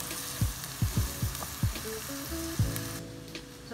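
Chopped onion frying in a hot pan, a steady sizzle broken by several sharp stirring scrapes and clinks at close range, with no voices.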